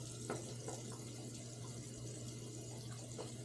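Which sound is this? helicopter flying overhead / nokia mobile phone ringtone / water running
water running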